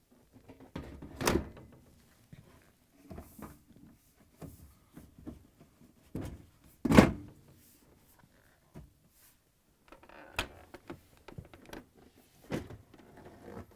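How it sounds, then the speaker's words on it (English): Bosch dishwasher door panel being fitted, with a few sharp thunks and clacks of the panel against the door, sparse and close, separated by quiet handling rustles. "Install the door panel."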